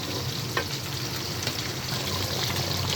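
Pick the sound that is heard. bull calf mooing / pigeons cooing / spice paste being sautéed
spice paste being sautéed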